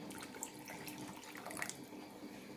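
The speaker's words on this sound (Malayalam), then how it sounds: "കുറച്ചുകൂടി വെള്ളം ഒഴിക്കാം" Water poured into a thick dal sambar of lentils, onion and tomato makes a soft, steady trickle for a couple of seconds, close and quiet with no one talking.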